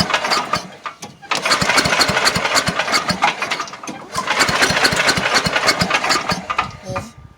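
An 8 HP Agri-Fab wood chipper engine, run with its air filter removed, fires up and runs loud and close, with a rough, pulsing roar that dips briefly twice before surging again.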